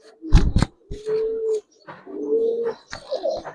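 Pigeons, Silver Giribaz and coloured breeds held by a seller, give several low, drawn-out coos in separate phrases, close and fairly loud, with handling noises in between.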